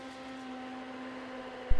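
An industrial 3000 RPM fan blows air onto hot computer memory during extreme overclocking, producing a steady droning hum with a constant low tone, moderately quiet, ending in a short bump of noise.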